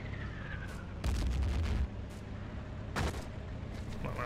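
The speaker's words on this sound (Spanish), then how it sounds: "coger una ametralladora y disparo lo que se mueve por ahí" A machine gun in the video game Battlefield 1942, during an Allied mission in Italian Libya, fires two bursts of booming shots, a longer one and then a shorter one, over low ambient battle noise.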